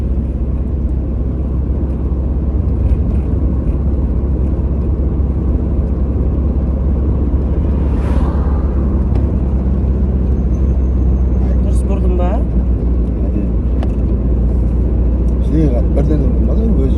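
Manual-transmission car being driven, its engine rumble and road noise heard as a steady low drone inside the cabin while people talk over it.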